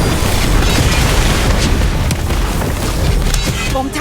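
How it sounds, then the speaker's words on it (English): Bombarda blasting spell going off in a Harry Potter video game: a loud, continuous rumbling boom with crackling bursts and debris-like pops, near and dominant across the whole stretch. "Bombastic bomb."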